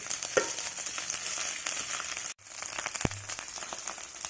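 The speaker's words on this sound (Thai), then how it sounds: "กระทะเริ่มร้อนให้ใส่พริกแกงลงไปครับ จากนั้นคนให้กลิ่นหอมเลยนะครับ" Steady crackling sizzle of curry paste frying in hot oil in a pan, with a brief dropout and a light clank midway.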